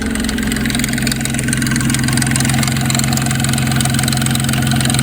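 A 2004 Nissan Maxima engine idles steadily up close at about 800 to 900 rpm, a constant rumbling drone with a busy metallic ticking rattle from a loose timing chain running through it.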